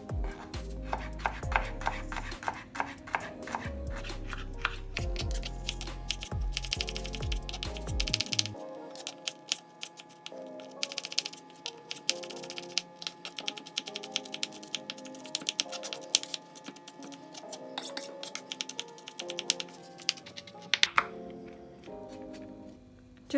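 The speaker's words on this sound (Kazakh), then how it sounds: "Чесногымызды осылай уақыттап турап аламыз." Garlic cloves being chopped with a knife on a board for garlic buns, a quick run of rapid, close taps, then steadier scattered knife strikes after a pause, with a faint musical tone in the background.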